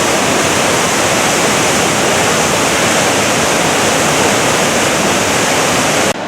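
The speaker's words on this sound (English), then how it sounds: "We'll have a better view of the falls in a second." Silver Falls near Mount Rainier roars continuously, a dense, loud rush of falling water with no pauses, cutting off abruptly at the end.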